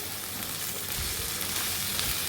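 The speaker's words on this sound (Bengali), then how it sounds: "আমরা এখন ভালোভাবে কষিয়ে নিতে হবে খাসির মাংস" Mutton cooking down for rezala in a pan. A loud, steady frying sizzle is heard up close and continuous, with no talk.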